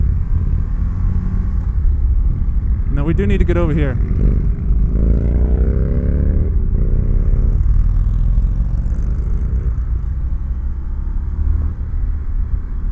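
A 2020 Indian FTR1200 motorcycle rumbles steadily while riding, its engine rising and falling in pitch beneath a rider's talking and constant wind roar.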